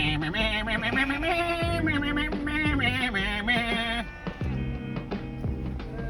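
Sheep bleat in Michigan, several wavering, nasal calls overlapping one another loudly and close, with a person's singing-like voice mixed in among them.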